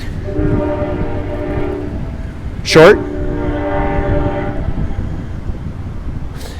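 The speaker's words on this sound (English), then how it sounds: "It's not the train that passes Siberia, but it's the same railroad, the Burlington Northern Southern Santa Fe." A train on the Burlington Northern Santa Fe line rumbles past at moderate distance with a continuous low roll, while a brief sharp horn-like tone rises over it midway and a voice speaks briefly.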